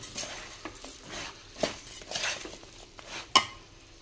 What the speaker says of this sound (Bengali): চালটা দিয়ে নাড়াচাড়া করে, আধা চাল দিয়েছি আর আধা চাল দিচ্ছি